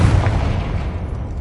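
A Confringo fire spell explodes in the Hogwarts Legacy video game: one loud, close, deep boom that slowly fades out with no talking.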